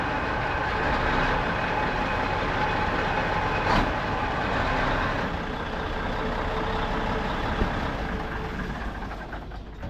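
A work truck's diesel engine runs with a loud, steady low rumble close by, holding a constant drone with only slight swells and no talk.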